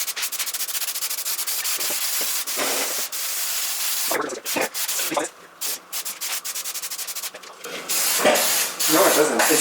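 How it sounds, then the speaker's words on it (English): 3M spray adhesive hissing from an aerosol can onto a car headliner during a suede headliner install, steady near spraying in the first half, then broken bursts with voices talking in between. "So let's go ahead and spray this on."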